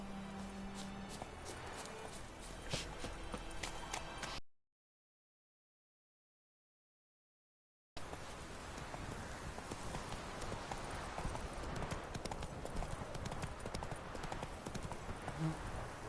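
Roach, the horse in The Witcher 3, gallops with fast, repeated hoofbeats. The running is broken by a few seconds of silence before the hooves resume, busy and close.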